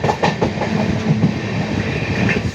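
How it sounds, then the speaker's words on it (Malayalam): The Amrita Express runs on rails after leaving Changanassery, its wheels giving a loud, close clickety-clack rhythm over a constant rumble, with no voices. "ചങ്ങനാശ്ശേരിയിൽ നിന്നും വളരെ പെട്ടെന്ന് തന്നെ ട്രെയിൻ പുറപ്പെട്ടിരിക്കുവാണ്"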